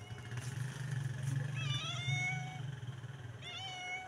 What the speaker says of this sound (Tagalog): Saka yung pusa nila oh.